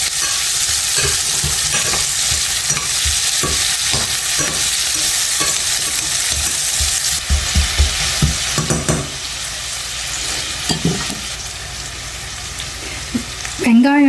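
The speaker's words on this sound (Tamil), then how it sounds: "இப்போ இந்த வெங்காயம் சாஃப்ட் ஆகிற வரைக்கும் வதக்கிக்கணும்" Onions sautéing in a pan with salt, a loud continuous sizzle close by, broken by repeated scraping and clacking of a spatula as they are stirred.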